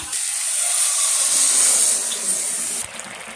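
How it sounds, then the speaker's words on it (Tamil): Water pours steadily into a cooking pan in a continuous hissing splash for about three seconds, then stops abruptly. "இப்போ இந்த கிளாஸால் 2 கிளாஸ் தண்ணி விடுறோம்."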